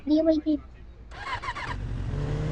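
A motorcycle engine starts in an Indian GTA-style video game: a short mechanical crank then settles into a steady low idle, following brief talk at the start.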